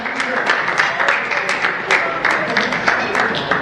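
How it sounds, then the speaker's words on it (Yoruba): An audience claps hands together in a dense, continuous round of applause at a crowning ceremony for Yeye Oba Apetu, steady and close throughout. "Ẹ jẹ́ ká pàtẹ́wọ́."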